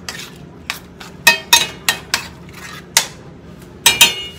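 A metal utensil stirs a creamy shrimp and spinach pasta sauce in a pan, producing close, loud clinks and scrapes against the pan in an uneven rhythm, with quiet gaps between strokes and no talking.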